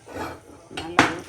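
Carrot, peas, cauliflower and onion tossed together in a bowl, giving a soft rustle followed by two sharp clinks of a utensil against the bowl, close and brief.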